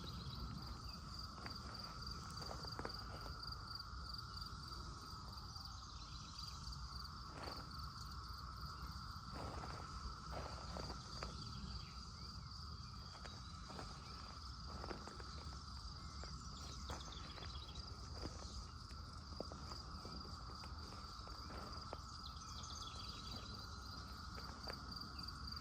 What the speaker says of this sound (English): Okay, there's your cicada noise.